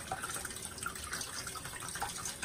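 A Gillette Aristocrat adjustable razor rinsed under a running tap, a steady close splashing water flow with small irregular spatters throughout, no talk.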